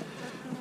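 Honey bees hum steadily on a brood frame just lifted from a hive, a dense even drone of many insects heard close up and alone, with no voices.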